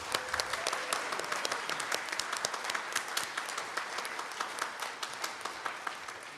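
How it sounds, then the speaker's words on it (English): Congregation at a Sunday church service giving a round of applause, a steady spread of individual claps, some sharp and close, continuing evenly throughout with no talk over it. "I just want one big round of applause for all of the people"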